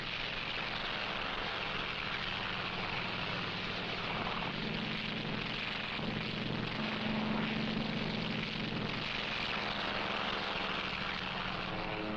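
Carrier-based propeller aircraft engines drone steadily and loudly throughout, a continuous rumbling roar with no voices, from a World War II American film.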